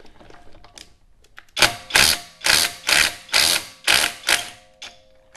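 A DeWalt DCF901B 12V impact wrench loosens lug nuts in seven loud, evenly spaced rattling hammer bursts, close and alone after a quiet start.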